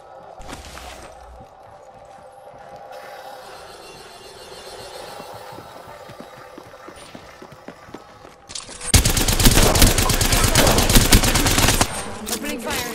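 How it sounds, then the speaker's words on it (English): Gunfire from a Havoc rifle in the video game Apex Legends: quieter game ambience and movement, then a loud, sustained automatic burst that lasts several seconds near the end. "Opening fire."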